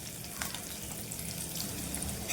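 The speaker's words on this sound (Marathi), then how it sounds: "लसूण बघा चांगली परतून घ्यायची आहे" Minced garlic cloves fry in hot tempering oil with curry leaves for a snake gourd and chana dal curry, giving a faint, steady sizzle throughout with no voices.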